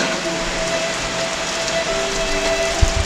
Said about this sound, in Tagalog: bundak na po ng ulan